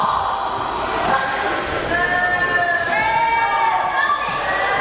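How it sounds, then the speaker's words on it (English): A wrestling show crowd in Heflin, Alabama, at a New South event, murmurs and calls out steadily, with scattered shouts and a few higher cries rising over the hall's hubbub. "this crowd here in Heflin, Alabama, not entirely sure how to take Max the Impaler."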